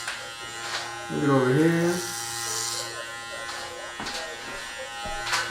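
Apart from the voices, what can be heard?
Suprent Pro Black Obsidian hair clippers cutting hair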